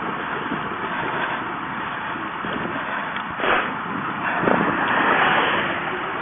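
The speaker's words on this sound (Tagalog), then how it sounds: "Tinutulak tayo ng hangin." Strong wind roars and buffets the microphone during a ride near Pleasant Prairie, Wisconsin, a steady loud rush with a few heavier gusts swelling toward the end.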